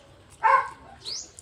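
A dog gives one short bark followed by a brief high yip, fairly close, over a faint background murmur.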